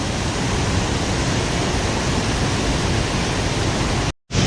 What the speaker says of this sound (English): Check that waterfall.